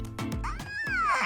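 Someone imitates a baby crying: a short, high, wavering wail that rises and then falls, given in a single breathy burst, close and clear.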